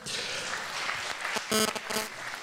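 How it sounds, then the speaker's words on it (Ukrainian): Audience applause at a KVN comedy league final, a dense wash of clapping throughout with a louder swell and a few cheers near the end. "Отож, під ваші оплески."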